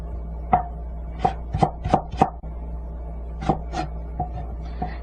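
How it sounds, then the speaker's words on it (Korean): Knife julienning peeled carrot slices on a cutting board, with a run of sharp, close chops in quick bursts of two to four, pauses between, and a few lighter cuts near the end. "편 썬 당근은 모아서 채 썰어줍니다."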